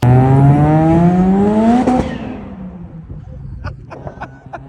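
A twin turbo Mazda RX-7 FC rotary engine revs hard and loud up to a high pitch, then drops off, followed by sharp popping and crackling as the revs settle, heard up close.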